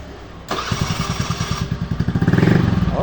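A SIP 125 motorcycle with a hard-starting problem cranks and catches, its engine sputtering into a rapid, even putter that grows slightly louder and rougher as it revs up close by.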